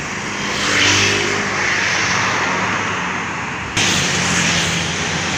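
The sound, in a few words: Harapan Jaya bus passing by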